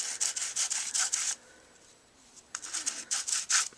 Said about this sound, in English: and just run your sandpaper over it